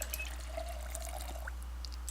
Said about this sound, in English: Fill empty bottle.